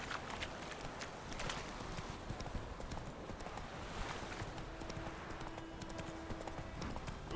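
Horse Roach in the video game The Witcher 3, galloping hoofbeats clip-clopping in a fast steady rhythm at close range, with faint game ambience and a brief voice.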